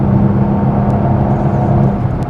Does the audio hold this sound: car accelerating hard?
yes